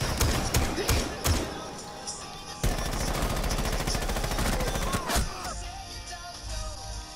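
Rapid automatic gunfire from a teammate in a video game, loud sustained bursts of machine-gun shots with a few heavy thumps, running almost continuously and close up.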